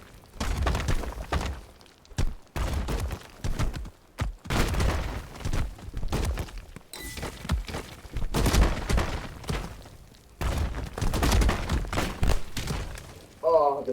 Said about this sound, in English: Oh, they fucking explode.